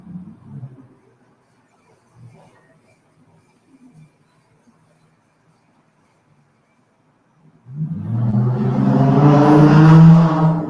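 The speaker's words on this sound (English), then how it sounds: "There was a very loud car coming down the street" A loud car rolls down a residential street in Richmond, California, first near silence with faint rustles, then a sudden roaring engine surges in and stays loud and rumbling for the last few seconds.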